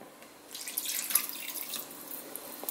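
Water trickles and splashes steadily into a bowl of naan dough ingredients, a soft, fairly quiet pour lasting a couple of seconds with no talk over it.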